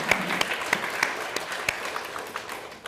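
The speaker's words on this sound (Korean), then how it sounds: "그래서 여러분 박수 한번 쳐드릴까요?" An audience at a Korean civic forum on climate change applauds in a steady, dense burst of clapping that lasts a few seconds and fades slightly toward the end.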